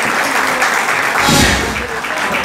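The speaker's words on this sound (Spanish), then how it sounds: "Quiero que la llevemos con un fuerte aplauso." An audience at a gala contest applauds a contestant, a dense, loud wash of clapping that swells briefly in the middle while a voice talks faintly underneath.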